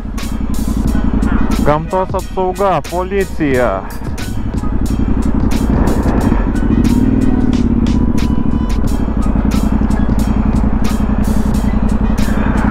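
Motorcycles ridden along a trail by the sea in Latvia, a loud continuous engine drone close by with rev changes, while a person speaks over it.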